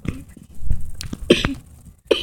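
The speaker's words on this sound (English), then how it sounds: "Stop coughing in the screen!" Several short, sharp coughs in a burst, close and fairly loud, with a throat-clearing quality and no talk over them.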